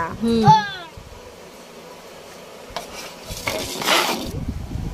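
Cashews and raisins are tipped into a sky-blue container, producing a rattling, clattering pour that lasts about two seconds after a brief spoken word at the start.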